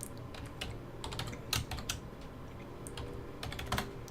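Computer keyboard typing a search query, a run of close, crisp key clicks in uneven bursts with short pauses, with no talking.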